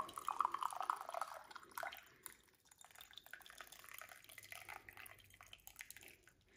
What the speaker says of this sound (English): I'm gonna pour some of this tea